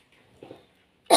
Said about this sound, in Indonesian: Maaf ya, saya agak batuk.